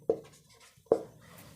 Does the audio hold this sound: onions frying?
no